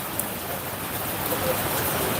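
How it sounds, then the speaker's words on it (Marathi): Heavy rain falling steadily across the city of Beed, a dense, continuous broadband hiss without breaks, loud and enveloping. "बीड शहरातील बारशिना काही ठिकाण आहे अतिशय उत्कृष्ट असा पाऊस आहे"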